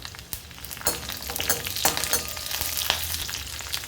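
Garlic, cashews and curry leaves crackle and spit in hot oil, with a dense, steady sizzle and sharp pops as each batch hits the pan, close and fairly loud, no voices.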